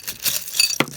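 Small metal charms clink and rattle together in a brief close jingle, with one sharper clink near the end.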